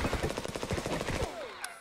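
Rapid automatic gunfire in the Escape from Tarkov shooter game, a dense burst of shots that runs for over a second and then cuts off, loud and alone.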